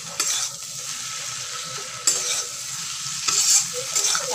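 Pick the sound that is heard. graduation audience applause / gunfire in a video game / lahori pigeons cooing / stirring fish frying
stirring fish frying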